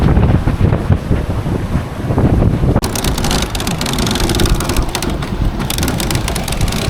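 Strong wind of about 18 knots while sailing off Turkey buffets the microphone in loud, roaring gusts, with rushing water and waves beneath, growing harsher partway through.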